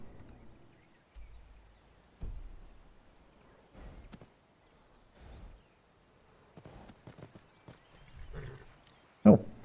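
Horse hooves in Skyrim, soft irregular thuds and clops spaced a second or so apart, fairly faint and close, ending with a sharper louder knock.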